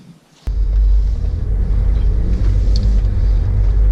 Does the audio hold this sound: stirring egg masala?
no